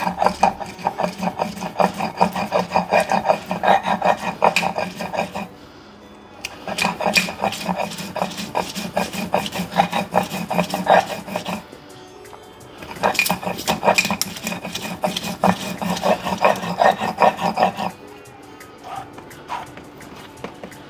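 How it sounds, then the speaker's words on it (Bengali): Soaked mustard seeds are ground on a grinding stone in long bursts of rough rhythmic rubbing and rasping, loud and close, stopping briefly twice between stretches of grinding. "সর্ষেটা আমি ভিজিয়ে রেখেছিলাম যাতে নরম হয় এবং তাড়াতাড়ি বাটা যায়।"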